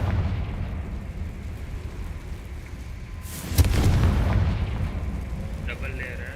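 Confringo blast spell explosion in Hogwarts Legacy, a sudden booming burst that rises out of a low rumbling background and trails off into a sustained roar, followed by a faint chime.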